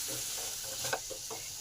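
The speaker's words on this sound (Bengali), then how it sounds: "এবার নুন আর হলুদটাকে ভালো করে আলু, পেঁপে আর গাজরের মধ্যে মিশিয়ে নিলাম।" Potato, papaya and carrot with salt and turmeric are stirred in a pan over a steady sizzling hiss, with soft rhythmic scraping strokes close by.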